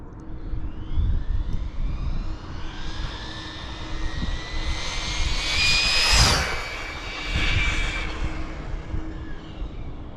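A JJRC Q117 RC car passes at full throttle, its high electric motor whine rising and then falling as it speeds by, over steady outdoor background noise, with no talking.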